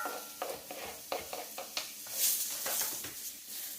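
Onions and garlic hit a very hot cast iron pan, giving a soft steady sizzle with scraping stirs and light clinks of a utensil against the pan, close and alone without speech.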